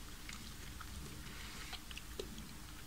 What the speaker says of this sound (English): You can really chew them, it's amazing.